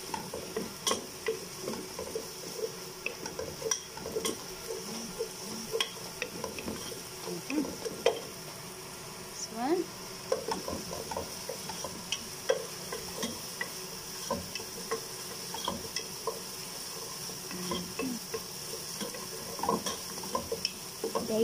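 Chicken for red rice fries in a pan with a steady, close sizzle, broken by frequent scraping and clinking as a utensil stirs it against the metal.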